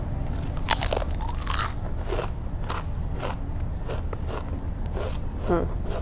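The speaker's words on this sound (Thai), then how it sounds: "มากินต่อค่ะ อ่ะมาค่ะเพื่อนค่ะ มันฝรั่งเผ็ดที่สุดในโลกค่ะ" Extremely spicy potato chips being eaten up close, with repeated sharp crunches and bites followed by chewing, plus crinkly rustles from the snack bag, and someone talking intermittently between mouthfuls.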